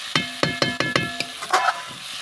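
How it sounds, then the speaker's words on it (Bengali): Jackfruit curry frying and being stirred in a pan over a wood-fired stove, with a quick series of loud, close scraping strokes of a spoon against the pan over a soft sizzle. "আমার ইঁচড় কারি দেখুন লক্ষ্য করে কাঠের চুলোয় কষছি, অনেকক্ষণ ধরে কষছি।"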